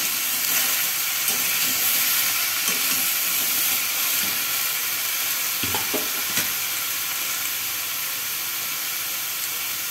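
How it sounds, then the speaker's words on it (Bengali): Vegetables sizzling in a frying pan for a drumstick-and-vegetable curry while being stirred, giving a continuous loud hiss with a few scraping bumps of the spoon, close up and without talk. "এবার একটু নাড়াচাড়া করতে হবে।"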